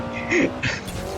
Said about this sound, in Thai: ถ้าฟังดีๆจะมีเสียงเทอร์โบอย่างแจ่ม